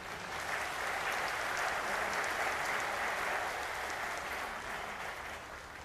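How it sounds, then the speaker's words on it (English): An audience at an HAL event in Bangalore breaks into steady, dense clapping that swells and holds evenly, heard from a distance and moderately faint with no talking over it. "Have some claps."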